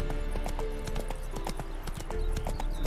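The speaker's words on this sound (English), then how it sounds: "Spooking my horse." Roach, Geralt's horse in The Witcher 3, clip-clops along in a steady hoofbeat rhythm, close and clear, over a low ambient game soundtrack with a faint whinny-like texture in the mix.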